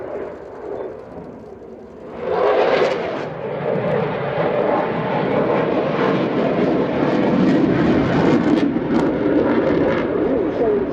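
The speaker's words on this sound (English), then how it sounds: "the pilot will be pulling the aircraft very hard up into an upwards aileron" A Finnish F/A-18C Hornet performing an aileron roll at an air show, its jet engines building into a loud, sustained roaring rush overhead, with a faint crowd or commentary bed beneath.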